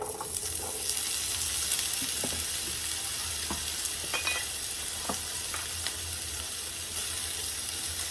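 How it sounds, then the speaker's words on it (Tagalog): Potatoes and carrots sauté in a hot pan with a steady, bright sizzle, broken by scattered clinks and scrapes of stirring throughout. "Gigisa ko muna ng patatas at saka ano. At saka carrots."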